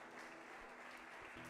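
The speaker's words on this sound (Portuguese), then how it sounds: "Aplaude a Jesus com alegria." Church congregation clapping for Jesus during a Portuguese-language worship service, a brief continuous wash of many hands, moderately distant and unbroken by speech.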